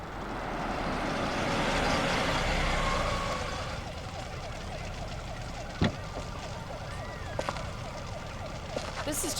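Sirens in the Parasite Eve 2 video game, several wailing tones over a broad rumbling background, with a few sharp thuds and a rising-falling siren sweep later on.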